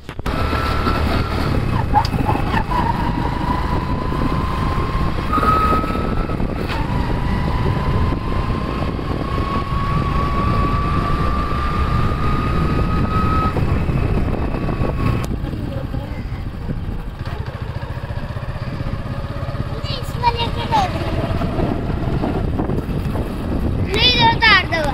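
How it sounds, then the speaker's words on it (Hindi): Motorbike riding: an engine drones steadily with rising and falling tones as the bike moves, wind buffeting the microphone throughout and voices speaking over it in places. "अब हम इस बाइक में जाएंगे"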